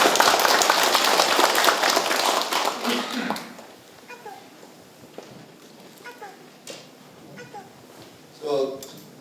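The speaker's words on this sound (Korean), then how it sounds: "저 박수 한번 주시고." Applause from residents at a community gathering hosted by the county head in Geumgangsong-myeon, Uljin, loud and dense for about three seconds, then thinning into scattered claps and murmuring voices.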